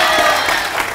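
Applause from an audience greeting a singer, a dense, steady wash of clapping that fills the short moment at fairly strong level.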